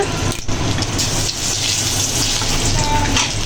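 Whole dried red chillies and bay leaves sizzle and crackle in hot butter and oil, a continuous close frying hiss throughout.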